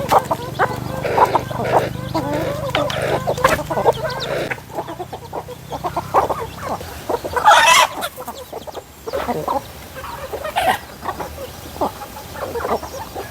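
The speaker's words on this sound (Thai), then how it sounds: "โอ้น้องไก่กินเก่งจัง" Chickens cluck while feeding outdoors on a rural morning. The clucks come close and in irregular bursts over a low background, with scattered pecking and rustling between calls.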